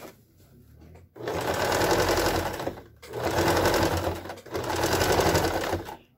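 A sewing machine backstitches bias binding on fabric in three loud, steady bursts with short pauses between them, close by and with no talk.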